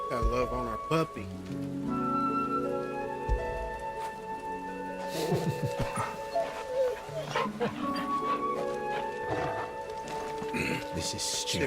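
A dog barking in Final Fantasy XVI, a few sharp barks mixed into game music, ambient effects and character dialogue, with rain-like noise in the background.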